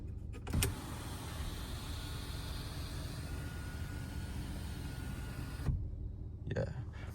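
Power sunroof on a 2020 Ram 1500 Limited pickup sliding open with a steady motor whir that runs for several seconds, quiet and close inside the cab, then stops with a soft thunk.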